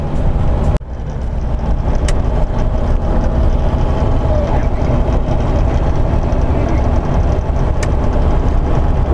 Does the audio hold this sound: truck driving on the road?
yes